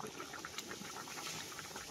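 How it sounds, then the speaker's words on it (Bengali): Rice coming to a rolling boil in a pot over a village cooking fire in Bangladesh, a faint, steady bubbling wash with soft popping, heard alone and close. "ভাতে বলক চলে আসছে"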